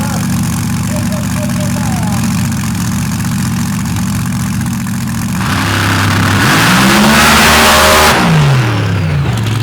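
A drag racing car idles loudly at the strip in Paducah, then its engine roars and climbs hard as it launches into a fast pass, the rising howl sweeping up and away, close and loud.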